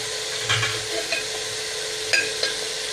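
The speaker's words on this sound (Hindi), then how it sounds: "हमारा चिकन हल्की आंच पे फ्राई हो रहा है।" Chicken with spices fries over low heat, giving a steady soft sizzle with occasional scraping stir strokes and light clinks of a utensil against the pan, close by with no talking.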